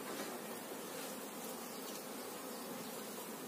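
Honeybees swarm and buzz around an opened Buckfast hive, a dense, continuous hum of many wings close to the microphone, steady and unbroken throughout.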